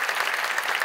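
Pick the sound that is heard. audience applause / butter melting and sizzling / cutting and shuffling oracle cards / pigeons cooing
audience applause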